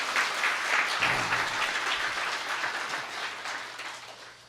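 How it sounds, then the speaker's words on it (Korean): A church congregation claps in sustained applause after a choir hymn during a Lent early-morning service, fairly even and moderately loud, slowly tapering toward the end. "하나님에게 영광의 박수 올려드리기를 바랍니다."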